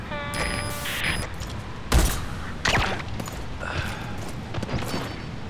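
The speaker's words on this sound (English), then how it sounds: "we have a sniper, so let's have Quiet take care of this guy" Gunfire from the video game Metal Gear Solid V, with several sharp shots and booming reports spread through a few seconds of steady game ambience, one heavy blast near the middle standing out loudest.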